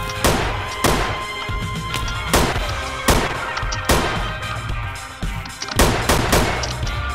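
A shotgun fires over and over in a video game gun mod, with loud booming blasts at a fairly even pace of nearly one per second, each followed by a short ringing tail.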